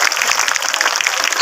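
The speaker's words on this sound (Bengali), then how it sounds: "ঈশানের জন্য একবার জোরে করতালি" A crowd at a spring festival stage claps loudly and densely, a sustained burst of applause at close range that fills the whole moment.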